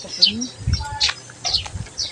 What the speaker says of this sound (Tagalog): ganda ng tunog talaga ng ibon, no? Yan yung tunog niya.